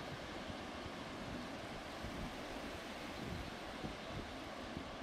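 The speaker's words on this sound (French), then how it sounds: "C'est le vent que j'entends." Steady broadband wind roaring during a supercell storm in the late afternoon, a continuous rushing blast with faint gusting swells, loud and unbroken throughout.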